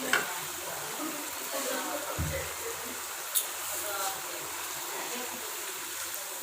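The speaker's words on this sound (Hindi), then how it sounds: "अब इसकी मैं 5 से 7 मिनट तेज़ आंच पे इसकी भुनाई करूँगा अच्छी तरह जी।" Mutton korma masala frying on a high flame, a steady soft sizzle with occasional stirring scrapes, close and fairly quiet, with no one speaking over it.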